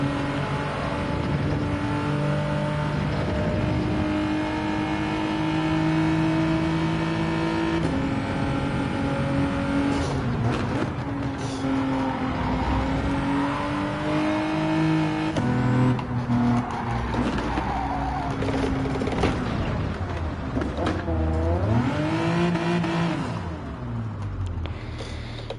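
Race cars from Gran Turismo 7 roar past one after another in a simulated endurance race, engines revving and shifting pitch as they sweep by, loud and continuous with no talking.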